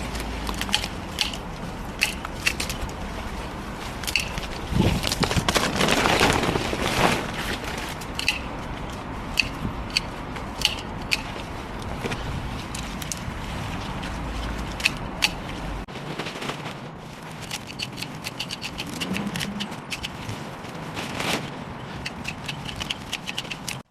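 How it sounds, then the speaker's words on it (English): Fuchsia bushes cut back with shears, a string of close snipping clicks and rustling leaves that carries on steadily with gaps between cuts. "trim these fuchsias back down"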